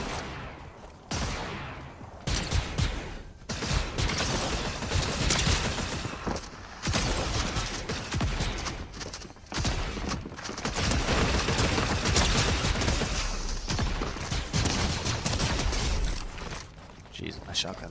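Repeated bursts of shotgun fire in a trios match of an online shooter game, sharp blasts recurring throughout alongside other game effects, with a player talking over much of it.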